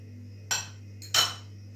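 A spoon clinks twice against a bowl while stirring a chocolate mixture for a homemade Danone-style chocolate dessert: two short, bright taps about half a second apart over a steady low hum.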